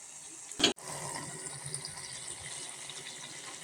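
Carrot and beetroot oil simmers over a low flame in a home kitchen, giving a steady, soft bubbling hiss throughout after a brief knock near the start.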